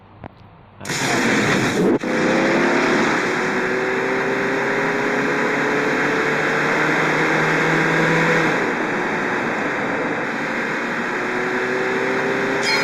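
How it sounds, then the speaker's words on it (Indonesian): A car in a video game accelerates hard from a standing start, its engine roaring loud and steady with rising pitch sweeps held for several seconds. "Hold tight, I'm stepping on the gas."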